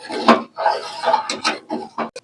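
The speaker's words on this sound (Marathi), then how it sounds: "आता आपण ही खीर व्यवस्थित मिक्स करून घ्यायची." Rice kheer is stirred in a pot at home, with a string of close clinks and scrapes of a spoon against the metal coming in uneven bursts, and no speech.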